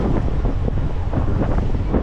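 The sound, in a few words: strong wind on the seashore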